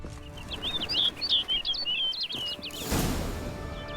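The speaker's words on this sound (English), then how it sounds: "Looks like the bird's leading me somewhere." A bird chirps in the Witcher 3 Blood and Wine game world: a quick run of bright, high tweets close by over a soft ambient bed, then a brief gust of noise.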